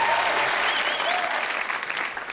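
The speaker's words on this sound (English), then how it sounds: "And a special round of applause for Mr. Alex Horne" A Taskmaster studio audience gives Alex Horne a loud, sustained round of applause, dense and even throughout before easing slightly toward the end.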